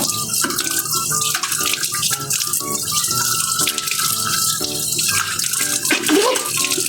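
Tap water runs steadily while something is rinsed, a close, continuous splash with shifting tones throughout; no talk over it.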